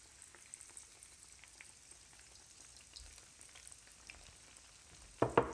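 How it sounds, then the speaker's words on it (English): Faint, low crackling of oil frying as a whole fish cooks in a pan, quiet and even, ending in a few louder close knocks or splashes. "and drop it in that oil"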